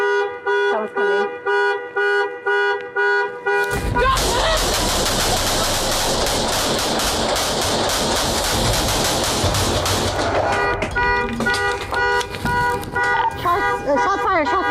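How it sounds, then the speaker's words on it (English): Deputies fire multiple rounds at a woman inside a house during a police confrontation. A dense, loud volley of rapid shots runs for about six seconds, framed by electronic beeping tones before and after, with voices around it. "Shots fired, shots fired."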